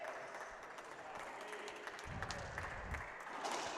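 Crowd at a pro doubles volleyball match in Denver breaks into applause after a long rally, a steady wash of clapping that swells louder toward the end.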